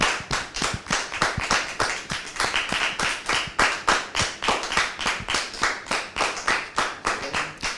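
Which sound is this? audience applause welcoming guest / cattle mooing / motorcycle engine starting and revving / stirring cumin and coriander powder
audience applause welcoming guest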